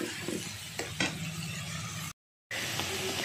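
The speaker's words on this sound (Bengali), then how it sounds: "বাটা মশলাটা দিয়ে দিচ্ছি তেলের উপরে। দিয়ে ভালো করে একটু নাড়াচাড়া করে নিচ্ছি।" A paste of ground ginger, garlic, onion, green chilli and tomato frying in hot oil, a close, steady sizzle with a couple of stirring scrapes, briefly cut to silence before resuming.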